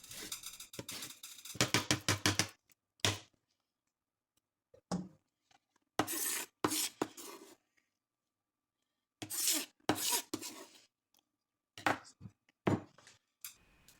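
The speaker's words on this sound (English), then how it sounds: "take the lemon, from which I removed some peel earlier, and take off the rest of the zest" A lemon is zested, with quiet rasping scrapes of the peel against a grater coming in short bursts and separated by pauses, close and soft.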